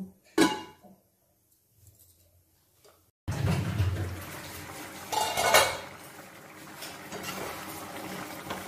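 A metal lid clanks onto a cooking pot of snail chochhori in a village kitchen, a sharp clatter, quiet, then another clanking burst followed by steady bubbling and stirring noises.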